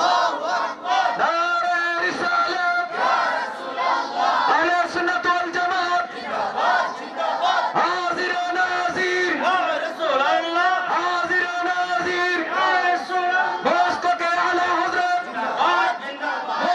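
A large congregation at an Islamic sermon shouts the takbir, Allahu Akbar, in loud, repeated, overlapping waves of massed voices that continue without pause.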